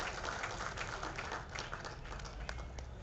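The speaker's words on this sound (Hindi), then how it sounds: "तो इसके लिए जोरदार तालियां माननीय अध्यक्ष जी के लिए बजाएं।" Crowd applause for the chairman at the inauguration of the Maharaja Agrasen Cancer Wing hospital in Punjabi Bagh, a steady, dense wash of clapping that holds even and fairly loud throughout.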